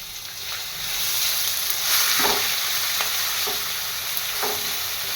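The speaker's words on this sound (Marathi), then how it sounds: "जो आपण मसाला बनवून घेतला होता ना तो पण मी याच्यात आता व्यवस्थित असं परतण्यासाठी घालून घेत आहे" Vada pav stuffing masala with turmeric, green chilli, garlic and ginger sautéing in a pan, a steady close sizzle with several brief scraping stirs of a spoon against the pan.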